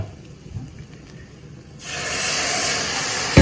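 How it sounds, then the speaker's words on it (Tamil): Tamarind water poured into a hot pan with soy chunks and chickpeas bursts into a loud, steady sizzling hiss that starts abruptly midway and holds strong to the end, after a quieter stretch of faint pan noise. "இப்போ வந்து புளியை விடுவோம்"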